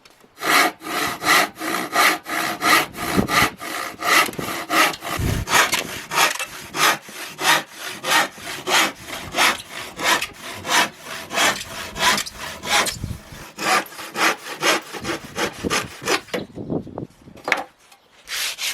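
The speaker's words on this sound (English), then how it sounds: "I prefer to use a handsaw as I find I get straighter cuts with it." A handsaw cuts through wood pieces for a Eurorack case in quick, steady back-and-forth strokes, close and loud, stopping briefly near the end.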